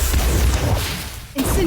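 A Whomping Willow attack card goes off in Harry Potter Magic Awakened, a loud rushing whoosh and thrashing swipe ending in a sharp crack, with voices over the top.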